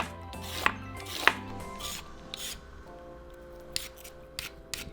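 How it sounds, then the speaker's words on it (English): Carrots are peeled by hand in a kitchen, a series of close, dry rasping strokes with irregular timing, a few sharper scrapes standing out early, with no talking. "so just peel them."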